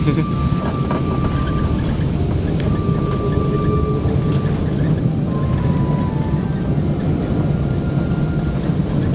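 An Aer Lingus airplane sits on the ground after landing in Dublin, Ireland, its cabin filled with a loud, steady, low engine rumble and broadband roar that does not let up.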